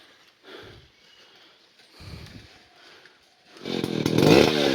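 A chainsaw readied for felling a large tree gives two short, quiet sputtering bursts, then roars into a loud sustained running whine near the end, close by and with no talking.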